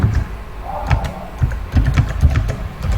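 Someone types a password on a computer keyboard, producing a run of close, crisp key clicks in uneven bursts, with a few louder strokes and no talking.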